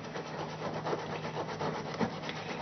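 Paper being rubbed by hand over a scrapbook tag for a photo transfer: a soft, continuous scratchy friction with gentle repeated strokes, close and fairly quiet, with no talking.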